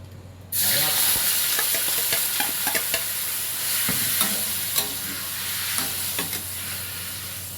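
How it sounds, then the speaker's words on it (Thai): Kale stir-fried with canned fish in a hot pan, a loud continuous sizzle with frequent scraping strokes of the spatula close up after a sudden start. "ผัดคะน้าปลากระป๋องนะครับ"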